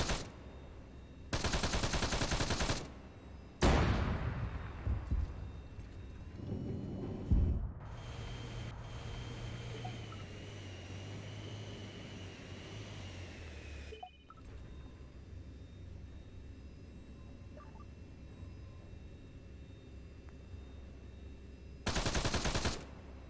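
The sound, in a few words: gunfire in the video game Arma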